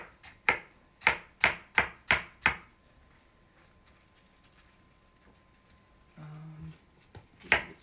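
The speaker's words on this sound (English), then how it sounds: "I'm just going to chop up our watermelon." A knife chops through watermelon on a board for a salad: six sharp, evenly spaced strikes, then a quiet pause, a soft scraping rustle and one last chop.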